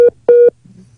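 A telephone line gives a busy signal after a dropped call: two loud, clear single-pitch tone pulses, one short and one longer, then near silence.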